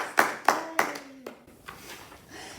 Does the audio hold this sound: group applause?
yes